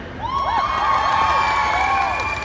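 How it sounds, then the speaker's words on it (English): A crowd at a gaming panel event in Dallas cheers and whoops for guests walking to their seats, loud high-pitched shouts and whistling rising over a steady crowd roar. "I want you to give them a huge round of applause until they get right to their seats"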